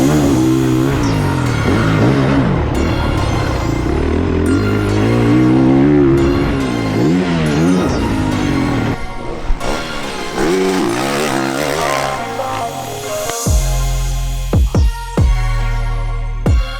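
A 2021 Honda CRF450R motocross motorcycle is ridden with a loud, close engine note that rises and falls with throttle changes, then drops to a near idle with a few sharp blips toward the end.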